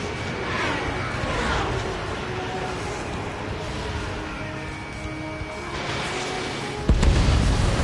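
A missile roars away in a jet combat game from the Ace Combat series, followed by rumbling booms and a sharp, loud blast near the end over a constant engine rush.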